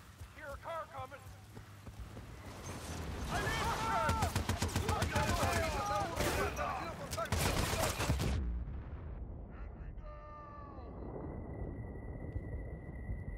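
Rapid automatic gunfire from an AK rifle with a reflex sight in the video game Battlefield Bad Company 2, loud bursts with clattering shots over game ambience and a voice talking, then the firing stops abruptly.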